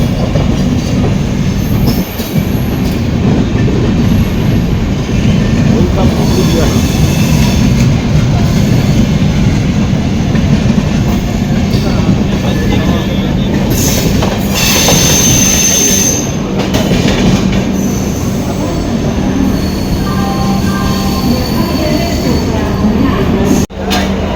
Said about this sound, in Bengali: সামনে এটা দিয়ে আছে পশ্চিম এক্সপ্রেস।